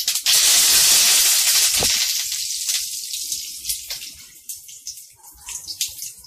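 Curry leaves dropped into hot oil with fenugreek seeds for Tamil mor kulambu give off a loud, steady hissing sizzle from the start that slowly fades and turns into lighter crackling pops.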